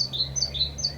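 Nightingales sing outdoors in a rural Armenian garden in spring, with repeated bright, high chirping phrases in quick succession over a steady low background hum.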